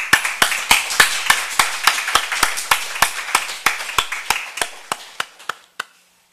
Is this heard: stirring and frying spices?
no